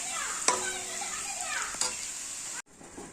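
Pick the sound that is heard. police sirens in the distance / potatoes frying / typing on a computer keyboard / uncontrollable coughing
potatoes frying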